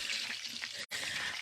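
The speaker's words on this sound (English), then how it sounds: "So, I am browning some butter, okay?" Butter browning in a pan with a sprig of rosemary and a sprig of thyme, giving a steady, close, fine-grained sizzle and crackle, with a brief dropout just before the hiss resumes.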